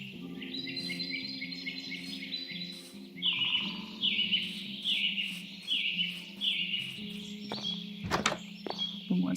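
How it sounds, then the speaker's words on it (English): Birds singing in the video game Whimsywood: Wizards & Witches, with repeated bright chirping phrases over a steady ambient background and a few footstep-like thuds. "Listen to the birds sing."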